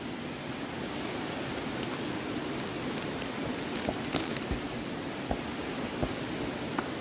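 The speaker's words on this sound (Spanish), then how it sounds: "No sé si se puede observar que está lloviendo" Soft, steady rain hisses throughout, with occasional louder drips and taps landing nearby.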